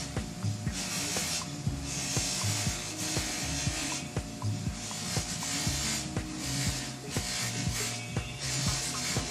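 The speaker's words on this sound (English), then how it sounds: "And I'll reload the wheel with wax a couple of times so that I get a nice coating on the pipe." A spinning buffing wheel loaded with carnauba (palm) wax polishes a tobacco pipe, giving a steady whirring rub with repeated rhythmic scuffs and light clicks as the pipe is worked against it, close and continuous with no talk.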